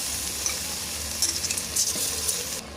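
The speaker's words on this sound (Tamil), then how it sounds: "இப்போ அரிசியை சேர்த்தாச்சு." Kiri Samba rice sizzles and fries with tomatoes in a pot, a steady crackling hiss with light stirring scrapes, no talking.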